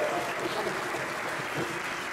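Brief, steady applause from an audience at an evening event honoring Haile Selassie's legacy, broadband clapping sustained throughout without a clear voice over it.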